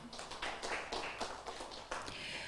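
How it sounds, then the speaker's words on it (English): Audience applause for a speaker receiving an appreciation certificate at an international food, agriculture and natural resources conference, a steady patter of many hands clapping close by for a couple of seconds, with no talk over it. "Please give applause to Dr."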